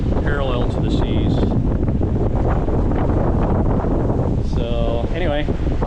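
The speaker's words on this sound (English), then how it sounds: "We've been plowing into head-on seas with the change in wind" Strong wind roars steadily across a sailboat pushing into head-on seas on Lake Michigan, with rushing water and gusts buffeting the microphone throughout; voices briefly speak over the noise.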